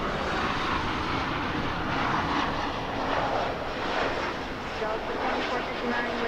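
Airliner taking off from runway 24 left at LAX, a broad loud roar of jet engines that holds steady throughout, with a voice talking over it.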